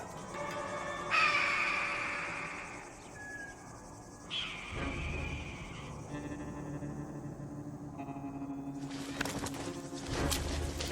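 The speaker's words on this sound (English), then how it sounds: "Harris hawks." Harris hawks call from the air over a hot desert realm of reptiles, giving a few harsh, rasping screeches at intervals over a faint background of insects and ambient effects.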